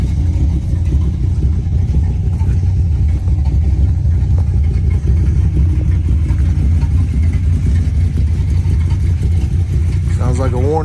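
A worn-out old 305 engine idles roughly and steadily close by for the whole stretch, a deep uneven rumble with a slight rise in revs near the end.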